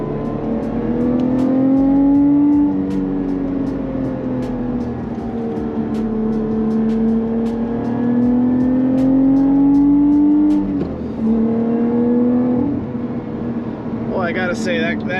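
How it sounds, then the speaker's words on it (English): Lotus Evora GT with a mid-engine V6, revving on Tennessee country roads, the engine note rising and falling through smooth pulls from inside the car, loud and continuous with a gear change near the end. "I gotta say, that engine does sound flippin' fantastic."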